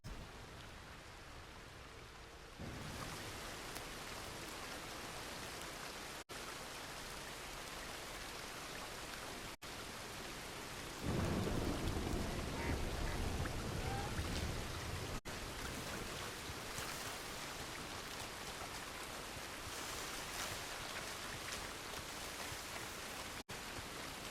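Steady rain in Red Dead Redemption 2, a dense hiss of falling water that swells louder partway through and continues without pause; no distinct thunder stands out.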